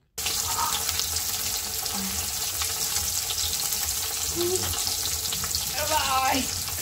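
Fish fries in a pan, giving a constant close hiss of frying oil that runs unbroken throughout, while a few brief voice sounds surface near the end.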